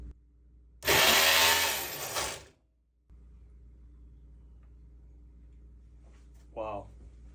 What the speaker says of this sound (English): the reason why I was making that chattering is, so I didn't tighten my bolts down enough